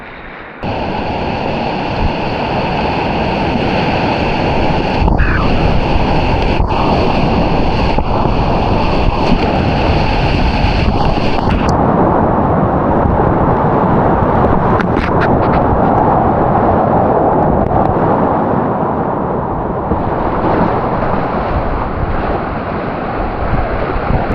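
Broadband roar of waves in a rapid on the Colorado River in the Grand Canyon, a steady loud wash of churning water with wind buffeting the microphone, running continuously with no voices.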